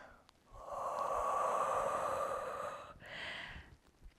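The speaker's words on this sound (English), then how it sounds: "Inhale and exhale." During a standing Pilates ring workout, one person takes a long, close breath through the nose, then a shorter second breath after a brief pause, quiet and alone.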